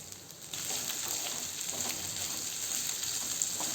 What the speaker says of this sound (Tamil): வெண்டைக்காயில் அந்த வலுவலுப்பு தன்மையில் போகிற வரைக்கும் வதக்கணுங்க